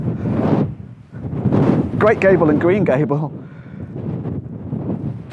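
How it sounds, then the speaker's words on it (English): Strong wind buffets the microphone in low rumbling gusts while a person speaks outdoors in the English Lake District. "it's quite windy, so I almost feel as if I'm going to get blown away."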